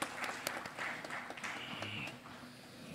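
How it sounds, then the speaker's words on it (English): An audience at a chartered accountants' technical session applauds a guest, with steady moderate clapping from a crowd in a hall that holds at an even level for a few seconds. "please welcome him with thunder of applause"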